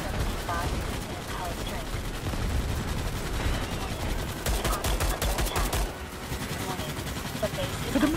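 Gunfire rattles through a Starship Troopers video game battle, dense bursts of rapid shots layered over explosions and chaotic noise, with a voice speaking amid the din.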